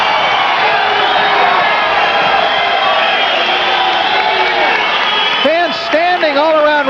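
A boxing arena crowd roars steadily at the final bell of the Jerome Coffee vs Eddie Croft fight, a dense, loud wash of cheering and shouting that stays constant, with a few louder whoops near the end.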